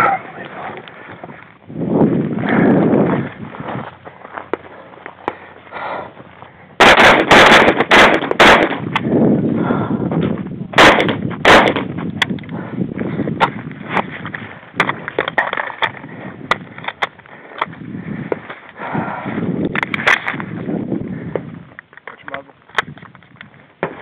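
Rapid rifle shots crack in a quick cluster at a shooting competition stage in the 2011 MGM Ironman, loud and close amid people talking, followed by scattered further shots, clanks and ongoing voices.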